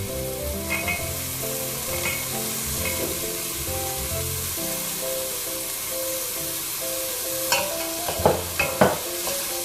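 Carrots sizzle and crackle in a hot frying pan, a steady close hiss of frying with occasional sharp pops and scraping stirs growing busier toward the end.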